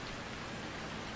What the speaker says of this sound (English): as soon as this rain lets up